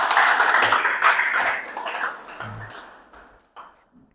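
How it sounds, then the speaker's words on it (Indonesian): Classmates applaud for group 3 after their presentation in a Pancasila civics lesson. A burst of clapping starts at once and fades steadily over about four seconds, with a few scattered claps at the end. "Beri tepuk tangan untuk kelompok 3."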